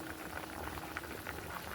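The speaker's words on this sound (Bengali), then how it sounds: "ভাতটাও ফুটে উঠেছে দেখছি" Rice boiling in a pot on a gas stove, a continuous soft bubbling with small pops, quiet and close, and no one talking.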